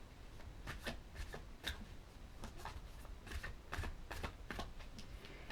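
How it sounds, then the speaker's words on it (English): Tarot deck being shuffled by hand, a soft, close series of quick riffling and slapping card sounds in irregular bursts with no talking. "So I'm just going to shuffle these a little bit more"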